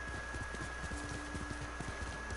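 Horse hooves clip-clopping steadily in the video game Ghost of Tsushima, a fast even trot of hoofbeats over a constant low background hum, with no talk.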